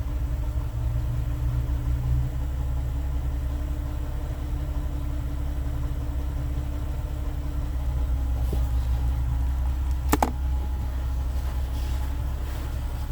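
Engine of a Nissan 370Z that is low on power and slow to crank, running at a steady low idle with a constant hum, one brief metallic tick near the end.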